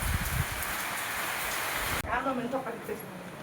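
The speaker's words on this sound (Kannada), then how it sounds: "ನೋಡಿ ಮಳೆ ಬರ್ತೈತಿ ಹೊರಗಡೆ" Steady rain falls outside a house, a dense even hiss that holds for the first two seconds before dropping lower, with voices talking faintly in the second half.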